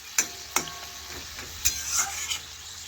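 Potato, carrot and pointed gourd cook together in a pan, faint sizzling under a few sharp knocks and scrapes of a spoon stirring the vegetables.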